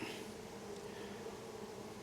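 Honey bees buzzing at an open hive as frames are handled, a soft continuous drone close by with no voices.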